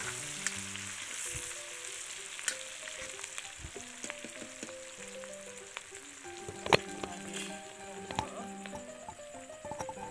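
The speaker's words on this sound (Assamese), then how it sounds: "এতিয়া সেই একেখিনি তেলতে তেজপাত আৰু পিঁয়াজ দিলোঁ। দি পেলাই পিঁয়াজখিনি ৰঙচুৱা হোৱালৈকে ভাজি থাকিলোঁ।" Sliced onions and a bay leaf fry in oil in a large iron kadai, a steady close sizzle broken by crackles and the occasional scrape of stirring.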